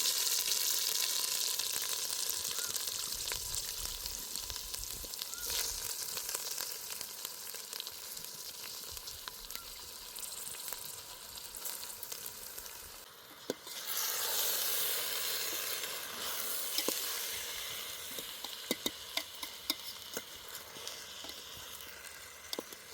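Soaked, washed rice sizzles steadily in frying masala with ginger-garlic paste, a dense continuous hiss with occasional stirring clatter, loud and close with no voices.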